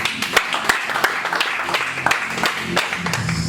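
A church congregation applauds during a French-language worship service, steady dense clapping with a few sharper claps standing out, sustained through the whole stretch.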